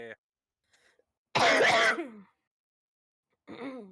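A single harsh cough bursts out, followed after a pause by a short throaty vocal sound; otherwise quiet.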